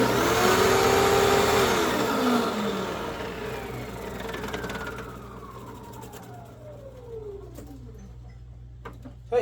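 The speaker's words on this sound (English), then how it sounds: "So yeah, it's a pretty amazing vacuum cleaner." An Advance Spectrum 12P commercial upright vacuum cleaner runs loud and close with a strong motor whine, then powers down, its pitch sliding steadily lower as it fades.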